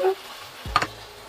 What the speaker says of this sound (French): On ajoute notre viande